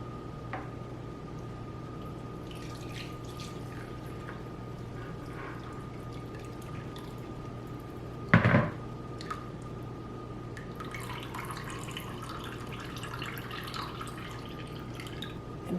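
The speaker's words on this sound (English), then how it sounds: "I'll just go ahead and get that poured in, and then it'll all be strained out" Chicken bone broth from an Instant Pot is poured through a cheesecloth strainer, giving a steady soft trickle with scattered drips and one brief louder splash midway, with no talking.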